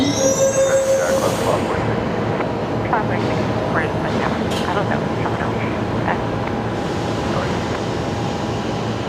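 An Airbus A321neo jet departs Brisbane Airport off runway 19 left, a steady, loud, broad roar that holds throughout with voices speaking over it.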